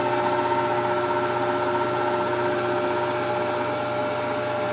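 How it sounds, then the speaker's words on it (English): A pasta machine rolls fresh lasagna dough through on setting 6, giving a steady, loud mechanical whir that holds unbroken throughout with no voices. "Pull the knob out, turn it to 6, turn the machine back on, and we're going to roll it through on 6."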